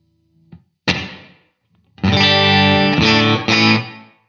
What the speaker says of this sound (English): Now what I've now selected is a room reverb.